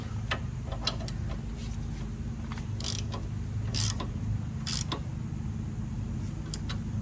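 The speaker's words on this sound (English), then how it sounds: "Then you go ahead and snug down the bolts." Ratchet or wrench clicks and creaks come through sporadically over a steady low background hum as bolts are snugged down on a brake caliper bracket on a 2008 Honda Civic.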